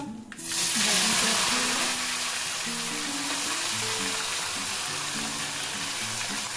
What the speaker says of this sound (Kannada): ಬದನೆಕಾಯಿ ಮತ್ತು ಉಳ್ಳಾಗಡ್ಡಿ ಎರಡೂ ಒಟ್ಟಿಗೆ ಹಾಕೋತೀನಿ